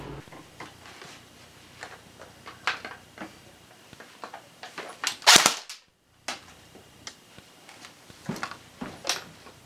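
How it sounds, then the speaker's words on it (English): An airsoft gun fired at a computer screen indoors, one sharp loud crack standing out among small clicks and handling taps, close by with no talking. "It was loaded and I shot at my computer screen!"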